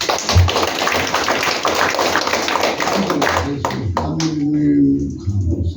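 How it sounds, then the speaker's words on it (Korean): A church congregation claps hands during a founding service, brisk dense clapping over the first few seconds that gives way to a voice speaking as the clapping fades. "박수 한번 쳐주세요"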